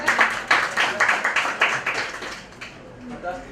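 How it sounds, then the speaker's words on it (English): Audience clapping at a digital payments workshop, a small group's rhythmic claps in quick pulses that loosen and fade, with voices speaking beneath and after. "Clap for Rita"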